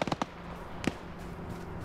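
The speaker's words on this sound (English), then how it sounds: "AT just hit the tank." An anti-tank round strikes a tank in a military video game, giving a few sharp close impact bangs followed by a single heavier blast, then a low rumbling tail.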